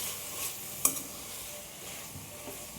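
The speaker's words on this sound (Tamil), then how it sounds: "இதையே நல்லா மிக்ஸ் பண்ணி அப்படியே நல்லா ஃப்ரை பண்ணிக்கலாம்." Green chillies frying and being stirred in a pan for jackfruit biryani, with a faint steady sizzle and one sharp metallic clink of the spoon against the pan.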